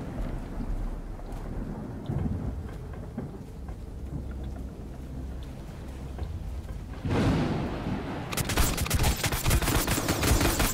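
Gunfire in the video game Sunkenland booms and rumbles under a dense, crackling noise bed. Rapid automatic bursts break in loudly during the final few seconds.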